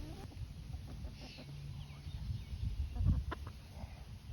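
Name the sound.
chicken clucking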